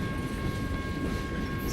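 A freight train rolls over the rails, giving a close, steady rumble with a low mechanical drone and no voices.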